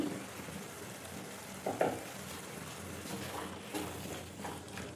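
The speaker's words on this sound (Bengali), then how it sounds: "এবার মটরশুঁটিগুলোকে ভালো করে মশলাটার সাথে কিন্তু মিশিয়ে নিতে হবে।" Green peas fried and stirred into spice paste in a pan for alu matar malai, a soft steady sizzle broken by a few scraping stirs, quiet and close with no talk.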